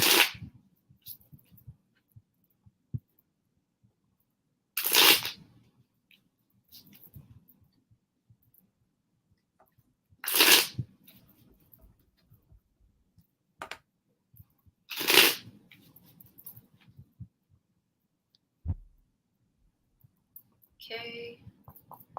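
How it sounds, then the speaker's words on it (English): A tarot deck is shuffled four times, each a brisk riffling burst about five seconds apart, with near silence and small handling ticks between; a brief voice is heard at the very end. "I'm going to go ahead, shuffle my deck 4 times."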